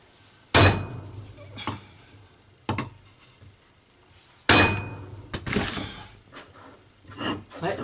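A nut is struck with a hammer through a wooden block that protects the thread during a Citroën Traction 11 B repair, giving sharp, separate knocks of varying strength with pauses between them and some talk over it.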